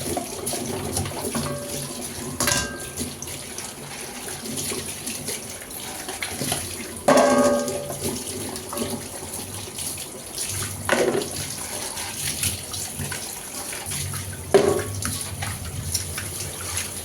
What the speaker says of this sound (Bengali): আমি সব কিছু ধুয়ে নিচ্ছি